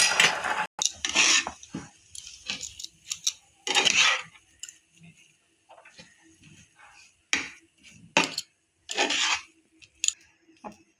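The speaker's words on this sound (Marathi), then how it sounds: "आता आपण ही भाजी चांगली एकजीव करून घेऊया।" Vegetable filling for kachchi dabeli being stirred and mixed with a utensil in a pan, giving intermittent scraping and clinking bursts with quiet gaps between, close and moderately loud.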